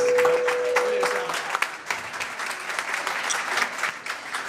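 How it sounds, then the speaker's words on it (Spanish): An audience applauds students standing up at a talk on television journalism, dense steady clapping throughout with a faint tone near the start and no talk. "Un aplauso para ustedes."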